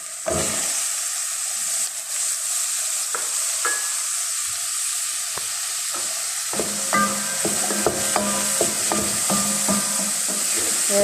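Celery stirred into onions frying in a pot, with a steady sizzle throughout and scattered scraping and clinking of a spoon against the pot, growing busier in the second half.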